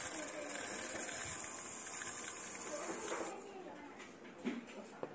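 A BumGum Aquate cordless water flosser runs with a steady, loud hissing spray. The sound softens partway through as the setting changes, and a voice talks over it.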